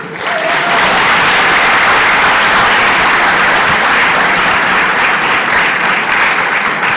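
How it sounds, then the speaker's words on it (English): Sustained, loud audience applause fills a Young Scientists of Kenya national science and technology exhibition award ceremony, dense clapping holding steady throughout without a break. "For a moment I was worried about how long I would have to keep talking before the applause came in"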